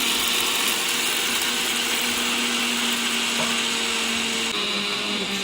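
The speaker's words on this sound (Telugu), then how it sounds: "మిక్సీ పట్టుకుందామండి." An electric mixer grinder runs at full speed grinding roasted peanuts into a dry chutney powder, giving a loud, steady motor whine with a grinding rattle throughout, close up and without any talking.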